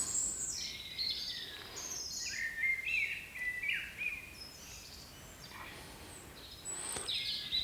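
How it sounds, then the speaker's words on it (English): Outdoor birdsong among trees: several birds chirp and whistle in short, bright phrases, fairly faint and spaced across the clip over a soft background hiss, with no talking. "And of course the birds singing."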